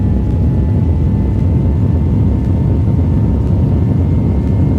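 Steady, loud engine roar of an aircraft taking off in a flight simulator game, with a constant low rumble and faint tonal hum holding evenly throughout, no voices.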